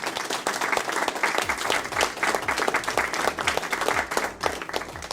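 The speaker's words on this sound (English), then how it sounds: "Let's give them a virtual applause." Applause greets the industry fellows inducted in the class of 2020, a continuous wash of many clapping hands lasting throughout, with a low rhythmic musical bed running underneath.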